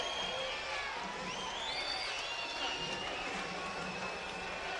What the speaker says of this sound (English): Good round of applause for these two ladies.